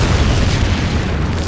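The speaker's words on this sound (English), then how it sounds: "Explosion!" Deep, heavy boom of an explosion in the Deadpool video game, a loud sustained low rumble filling the whole moment with no voices over it.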